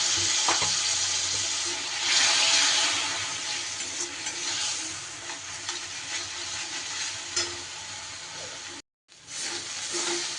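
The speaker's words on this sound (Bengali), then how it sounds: "প্রায় পাঁচ মিনিট ধরে মশলা আমি খুব ভালো করে কষিয়ে নিয়েছি" Masala spices for a soybean gravy are stir-fried in a pan, giving a continuous crackling sizzle with scraping stirring sounds close by and one brief dropout near the end.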